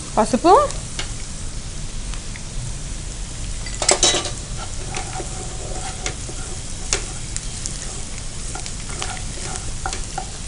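Bitter gourd frying in a pan, a continuous close sizzle with spatula stirring and scraping, a few metallic clinks against the pan, one brief louder clatter.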